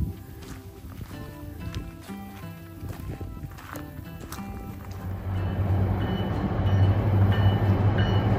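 A train runs along a line through a forest by a lake, a steady rumbling roar that builds and grows louder toward the end, with faint clicks and rustles nearby.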